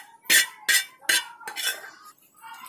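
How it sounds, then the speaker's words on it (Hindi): A spoon stirs a chicken, potato and vegetable cutlet mixture in a bowl, making four sharp, close clinks and scrapes against the bowl at a steady pace, followed by softer stirring, with no talking. "अब हम इसको मिक्स करेंगे, जब तक मिक्स करना है तब तक चिकन और सब वेजिटेबल्स आलू में मिल जाए।"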